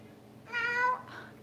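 A domestic cat gives one short, clear meow close by, followed by a softer trailing sound, in an otherwise quiet room.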